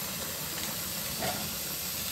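Steady broadband hiss of steam from a boiling water bath canner, constant and fairly loud throughout, with no voices.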